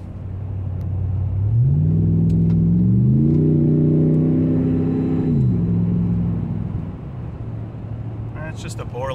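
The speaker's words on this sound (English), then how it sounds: "That's just a Borla exhaust." A 2014 Ram 1500 Hemi V8 revs through a Borla exhaust, rising in steps to a sustained loud, deep roar before dropping back to idle, heard close with brief talk at the end.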